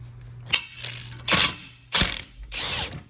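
A wrench works the locking nut on the idler arm of a 1959 Ford Fairlane, giving a few short metallic ratcheting strokes with brief pauses between them, close up, over a low background hum.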